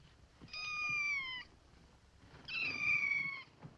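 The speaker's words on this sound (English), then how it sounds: "Oh, a cat." A cat meows twice, each call drawn out for about a second with a short pause between, fairly clear and close over a quiet indoor background with no talk.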